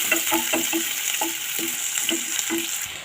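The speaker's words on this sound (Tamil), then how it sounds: "இப்போ வெங்காயமும் பச்சை மிளகாய் பிடிச்சி நச்சு வச்சுருக்கேன், அதையும் போட்டுக்கோங்க. போட்டு நல்லா ஃப்ரை பண்ணிக்கோங்க." Chopped onion and green chillies fry in a pan with a loud, continuous sizzle, while a spatula scrapes and stirs in a repeating rhythm and no one speaks.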